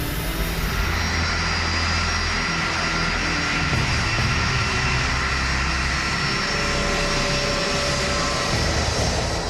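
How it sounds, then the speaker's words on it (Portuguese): A DC-10 airliner's three jet engines roar steadily as it accelerates down the runway for takeoff, a loud, constant broadband rumble with a faint whine and no voices. "Impulsionado por suas 3 turbinas, o avião percorre a pista de decolagem"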